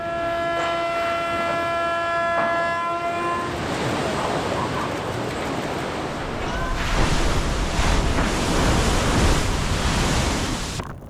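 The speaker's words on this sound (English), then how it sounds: "Massive ship launch creates epic exploding waves" Huge waves thrown up by a massive ship launch: a loud, continuous roaring wash of churning water and spray that swells midway, following a long horn-like tone at the start.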